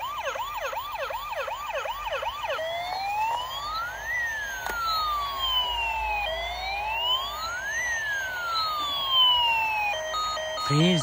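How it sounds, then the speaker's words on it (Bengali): A toy ambulance marked hospital plays its electronic siren, first a fast warbling wail, then slow rising-and-falling whoops layered with beeping tones, loud and continuous without talk. "দেখো মিউজিক ওলা একটি সুন্দর অ্যাম্বুলেন্স পেয়ে গেছি"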